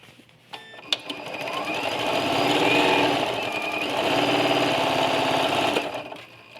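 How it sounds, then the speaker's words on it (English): A sewing machine stitches quilt rows at a fast, steady whirring clip, near and fairly loud, starting and stopping with a few clicks and a brief pause midway. "And if you have a machine like this one, it sews pretty quickly."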